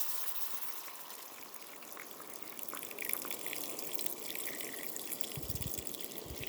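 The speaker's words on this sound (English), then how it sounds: "Now I'm going to add the beer. I'm going to foam up a little bit." Beer poured into a hot pan holding a browned pork loin, a continuous faint fizzing, hissing foam with light dripping and a brief low thump near the end.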